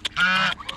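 Geese or ducks in a flock honk while being fed corn, one loud nasal honk up close framed by shorter clipped calls.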